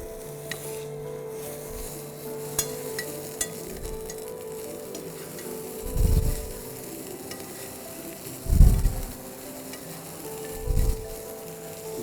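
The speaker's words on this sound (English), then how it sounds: "now we're going to add butter" Butter sizzling in a hot pan with a loin of meat, a quiet steady frying hiss broken by three soft scraping stirs or bastes, close and without talk.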